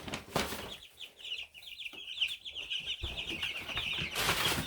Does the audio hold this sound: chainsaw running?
no